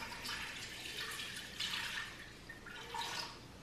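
A litre of water is poured into a dough mixer for Neapolitan pizza dough, giving a faint, continuous splashing trickle with gentle surges, quiet and close.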